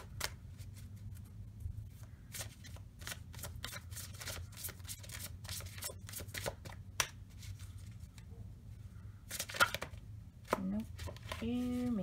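Tarot cards are shuffled for a card reading, a long run of quick, crisp riffling slaps and flutters, fairly close, with a voice joining in near the end.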